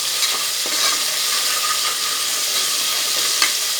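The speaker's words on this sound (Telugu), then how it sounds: "వెల్లుల్లి వాసన పోయేంత వరకు వాటిని అలా ఇలా తిప్పుకుంటూ" Garlic fries and is stirred in a pan for mutton gravy curry, a steady loud sizzle with faint stirring clicks throughout.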